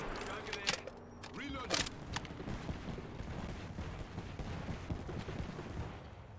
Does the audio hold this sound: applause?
no